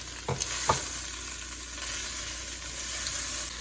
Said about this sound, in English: go ahead and dump in the onion that you prepped. Oop. Perfect. And give it a stir.